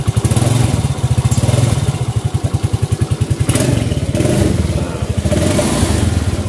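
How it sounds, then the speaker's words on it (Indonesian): An automatic scooter engine runs rough under throttle, giving a loud, close, steady pulsing chug with a vibrating, uneven beat that swells slightly as it is revved, with no talking. "kalau kita gas jantung di mesinnya juga ada kasar"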